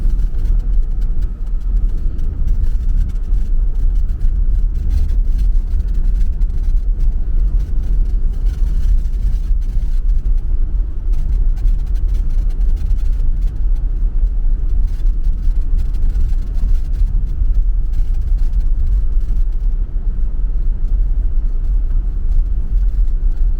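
Brand new rental car driving off-road on a wildlife management area trail, a steady low engine drone with rumbling tire and body noise held close and continuous throughout, no voices.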